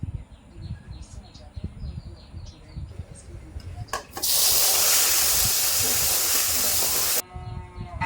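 Spices fry in a pan for a fish curry, with a sudden loud, sustained sizzling hiss that runs for about three seconds and then cuts off, over background kitchen noise and occasional talk.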